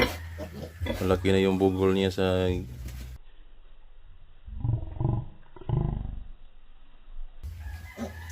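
A piglet with a lump on its hip lets out loud, shrill, drawn-out squeals during treatment, then breaks into shorter grunting cries. Someone talks in between the squeals.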